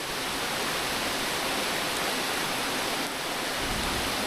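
The swollen current of the Kali Srengseng river in Tambun after heavy rain makes a steady, loud, broadband rushing roar that is constant throughout, with no voices.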